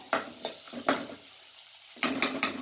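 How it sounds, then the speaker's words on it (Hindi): Daliya pulao with chopped green chillies is lightly stir-fried in a pan: a few sharp spatula clatters and scrapes against the metal in bursts, with brief quiet gaps between strokes. "अब इसको हल्का सा स्टर फ्राई कर रहे हैं।"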